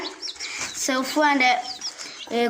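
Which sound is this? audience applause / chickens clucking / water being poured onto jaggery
chickens clucking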